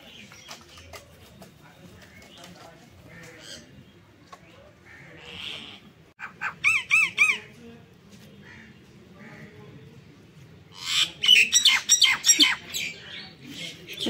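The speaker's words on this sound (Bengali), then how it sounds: "এখানে পাখি ডাকাডাকি করছে" Birds call and squawk near a village home, bursts of harsh repeated squawks between quieter cooing and scattered chirps, with someone talking and calling to them at times.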